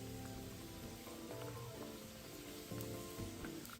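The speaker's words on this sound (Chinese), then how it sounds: "再将第一回油炸后的木薯年糕再回锅复炸一次，大火复炸个50秒至1分钟" Cassava nian gao re-fried a second time in very hot oil over high heat, giving a faint, even crackling hiss that runs on without a break.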